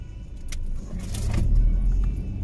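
Interior of a moving car, a low rumbling road and engine drone with a few light rattles and a swelling rise in loudness partway through, steady and close with no talk.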